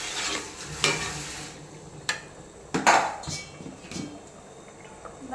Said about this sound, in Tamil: இப்போ நல்லா உப்பு காரம் மசாலாவோட மட்டன் வந்து ஒரு கொதி வரட்டும்